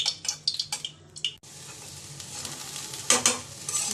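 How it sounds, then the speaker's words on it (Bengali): Chilies and leafy greens fry in hot oil in a pan, with a sharp sizzle that swells after the greens go in, broken by several quick scraping stirs, and no voices. "আর এদিকে হচ্ছে আমার মরিচ ভেজে নিচ্ছি, শাক তেলে দিয়ে দিলাম"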